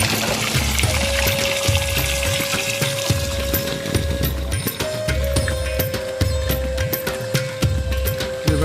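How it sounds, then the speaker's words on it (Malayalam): A forest waterfall beside the Sabarimala road rushes steadily as it washes a Tavera, with continuous splashing water and an even droning tone, loud and close with no talk. "ഇത് കാട്ടിൽ നിന്ന് വരുന്ന വെള്ളച്ചാട്ടമാണ്"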